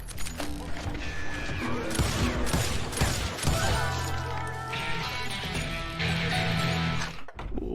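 Gunfire and mechanical clatter in the Wild West shooter Call of Juarez: Gunslinger, with sharp shots, creaks and crashes layered over game music and tones, busy and loud throughout before a brief dip near the end.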